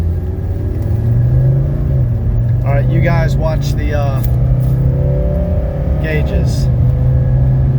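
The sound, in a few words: 1985 Mercedes 300D diesel accelerating during 0 to 60 run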